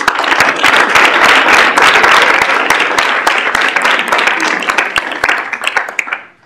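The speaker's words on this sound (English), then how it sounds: "let's give them all a round of applause" A crowd applauds loudly and continuously, a dense wash of clapping that fades out toward the end.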